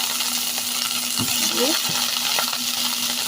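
Spring onions and green chilies fry in oil in a pan, giving a steady, moderately loud hiss, with a few clinks of a utensil and brief scrapes of stirring over it, no talk.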